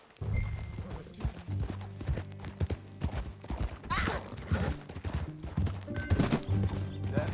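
A horse's hooves clop at a steady trot in the Red Dead Redemption 2 video game, a continuous rhythmic patter over a sustained low musical score.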